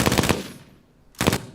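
An M60 belt-fed machine gun fires two short bursts separated by a brief pause, loud and close with sharp rapid reports.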